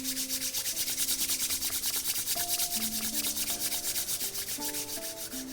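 Two hands rubbed together hard and fast produce a steady rhythmic swishing friction, loud and close, with a soft musical drone underneath and no talking.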